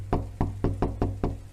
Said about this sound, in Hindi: बेटा अर्जुन, दरवाजा खोल बेटा।